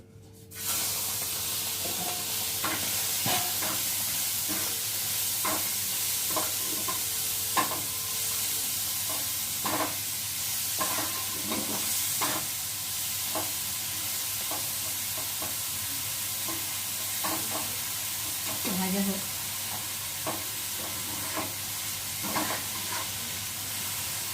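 Marinated shrimp frying in a pan, a steady close sizzle and hiss that runs throughout with small crackles and stirring scrapes over it.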